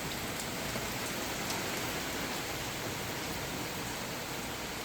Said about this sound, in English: So it is raining out. You can hear and kind of see it out there raining.